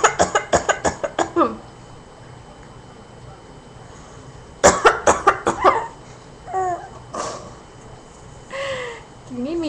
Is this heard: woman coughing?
yes